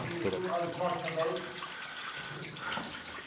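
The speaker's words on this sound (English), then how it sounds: "This is where the little babbling brook went down." A small babbling brook runs down a branch tunnel of an abandoned iron mine, giving a soft, continuous trickling and gurgling that echoes faintly in the enclosed passage, with no voices over it.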